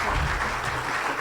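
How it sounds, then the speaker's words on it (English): A brief burst of audience applause at a Chamber of Commerce luncheon honoring a local lawyer, dense clapping lasting just over a second at moderate volume. "Let's join us and give him a round of applause."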